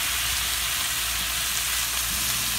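Green pepper and freshly diced tomatoes sauté in a hot pan, giving a steady, close, even hiss of frying that holds at constant loudness with no voices.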